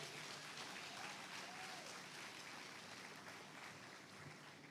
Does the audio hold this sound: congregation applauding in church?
yes